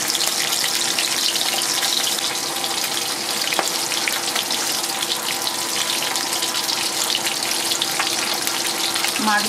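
Large silver carp pieces frying in hot oil, a dense continuous sizzle and crackle held close and loud from start to finish, with no talk.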